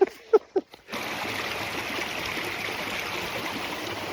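A stream of water near a trail campsite, a steady close rush and trickle that starts after a few sharp knocks and then flows on continuously.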